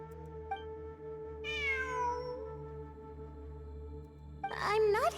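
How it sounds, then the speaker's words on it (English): A cat meows in the video game Nikke: one rising-falling meow in the middle, then a shorter burst of meows near the end, heard over steady game music with a humming drone. "It really is a cat."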